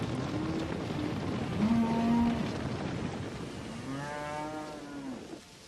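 Cattle at an industrial confined animal feeding operation moo in long, low calls, with several animals overlapping against a constant noisy background.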